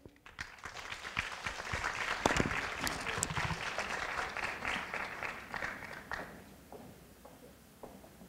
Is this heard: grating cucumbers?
no